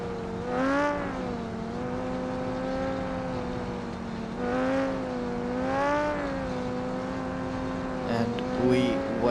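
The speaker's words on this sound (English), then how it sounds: "The engine's revving up." A Formula Three race car engine on the Belgian Grand Prix circuit revs in long rising and falling sweeps, loud and steady, with a short flurry of sharper sounds near the end.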